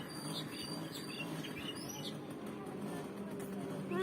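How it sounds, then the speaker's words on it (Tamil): Small sparrows chirping outdoors near a home, scattered short tweets over a low background hum with a faint distant car, fairly quiet and without close talk. "குருவி கத்துது"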